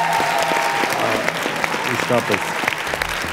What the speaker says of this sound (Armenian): Եկեք ծափարենք մեր բոլոր դուրս մնացած մասնակիցներին։